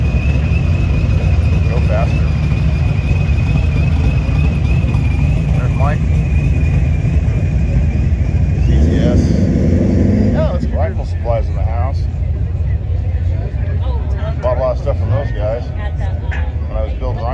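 Muscle cars, including a 1972–73 Roadrunner, rolling into a car show, with steady engine rumble and a passing vehicle throughout, while people talk over it.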